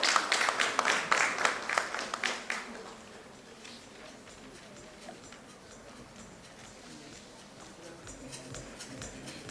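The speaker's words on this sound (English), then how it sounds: "Let's have a huge round of applause for the wonderful panel." Audience applause for a conference panel at a nursing conclave in a Mumbai hotel, a dense burst of clapping that is loud for the first few seconds, then thins into scattered claps and room murmur.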